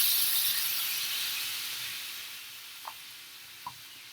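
Bananas sizzle in butter and sugar in a hot pan, a steady bright hiss that slowly fades, with two brief soft taps near the end.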